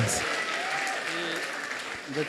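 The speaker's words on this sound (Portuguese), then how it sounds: "Mas pode aplaudir ao Senhor?" A church congregation applauds continuously for a couple of seconds, a dense steady wash of clapping with faint voices mixed in.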